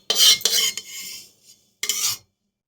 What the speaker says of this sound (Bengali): এটা গুঁড়ো করে দেব, তাই জন্য নামিয়ে নিচ্ছি হামাদিস্তাতে।